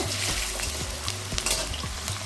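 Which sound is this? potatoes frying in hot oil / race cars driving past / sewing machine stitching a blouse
potatoes frying in hot oil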